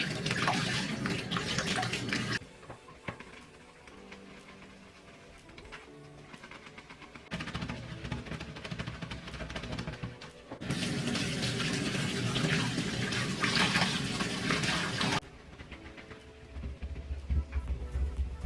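Makeup brushes being washed under a running tap: bursts of gushing water switch on and off between quieter spells of rubbing and swishing, close and fairly soft.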